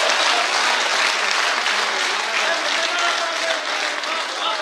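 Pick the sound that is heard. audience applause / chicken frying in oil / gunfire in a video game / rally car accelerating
audience applause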